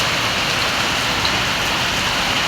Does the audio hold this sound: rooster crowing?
no